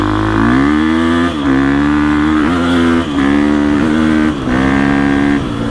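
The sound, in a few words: 2021 GasGas EX 350F dirt bike engine accelerating through gears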